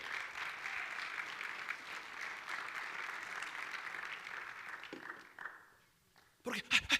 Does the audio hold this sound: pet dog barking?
no